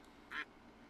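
A single short, loud duck quack stands out once against quiet background hiss.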